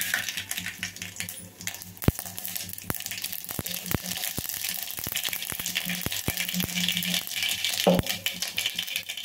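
Mustard seeds sizzling and popping in a spoonful of hot oil for Telugu-style tomato rasam, a steady close crackle broken by sharp spattering pops, with a low background hum throughout.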